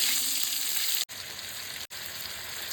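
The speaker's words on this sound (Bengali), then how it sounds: "এবার পেঁপেগুলো একটু ভেজে নেবো" Papaya pieces fry in hot oil with a steady, close sizzle, crackling without a break apart from two short silent gaps.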